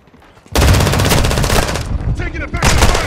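Sustained loud automatic gunfire in the video game Call of Duty: Modern Warfare II, a dense rapid burst that starts abruptly, briefly dips, then resumes, close and dominant with a voice partly under it.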